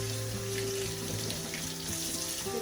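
Tap water runs steadily into a kitchen sink as bell peppers are rinsed under it. The splashing hiss is close and constant, with a faint tonal hum underneath.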